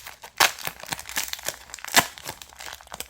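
A cracked ice card envelope being opened up close, with crisp crinkling and tearing of the foil-like packaging coming in irregular bursts and two sharper loud rips.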